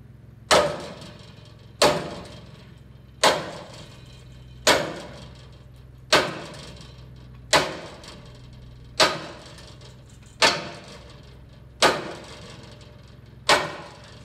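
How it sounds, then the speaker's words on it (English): A 5-pound sledgehammer pounds a mangled front fender straight, with ten heavy, evenly spaced metallic blows about every second and a half, each ringing and decaying, close and alone. "I prefer to do body work with a 5-pound sledgehammer."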